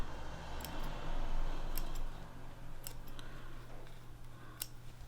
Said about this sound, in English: and I'm just going to trim it back. I'm going to get rid of any loose pieces of thread.